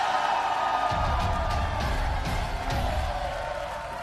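Rival red and blue fan teams shouting and cheering in the stands of a judo TV show, a dense crowd roar with rising whoops and bellows that fades slightly toward the end.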